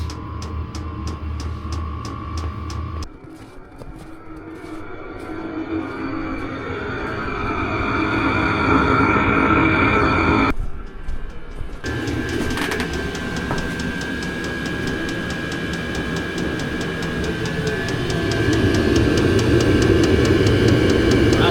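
An engine-driven diesel heater in an off-grid bunker cranks and catches, settling into a steady droning hum with a whining tone, broken by a brief gap before running on.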